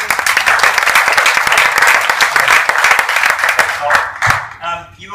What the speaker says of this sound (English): Big applause to Steve again.